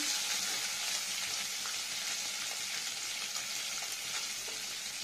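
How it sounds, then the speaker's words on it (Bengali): Rohu fish frying in a pan, a steady dense hiss of sizzling oil throughout, close and fairly loud with no voices. "একটু ফ্রাই করবো"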